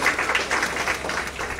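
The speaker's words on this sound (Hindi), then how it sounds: "पूरा एम्स तालियों की गड़गड़ाहट से" Applause fills the AIIMS hospital in India as the country's first COVID-19 vaccine dose is given, a steady, dense wash of many hands clapping together, continuous and fairly loud throughout.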